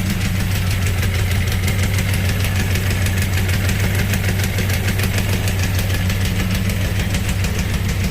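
A 1983 Yamaha XJ 900 motorcycle engine, just revived after sitting, running at a steady idle with a loud, close, even mechanical chatter and rapid knocking pulse throughout, no talking.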